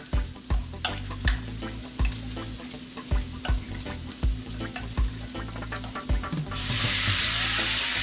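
Beef sizzles steadily in a hot pot, with repeated scraping and stirring knocks, the frying hiss growing louder and brighter near the end.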